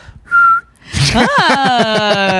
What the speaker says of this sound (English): I can also whistle.